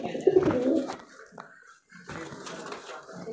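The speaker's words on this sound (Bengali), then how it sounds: "তোমরা দেখতে পাচ্ছ ডিমে তা দিচ্ছে পায়রা" Pigeons sitting on eggs in a kabutar loft give soft, low, throaty cooing in repeated bursts, close by, followed by a brief lull and then more murmuring coos and light shuffling.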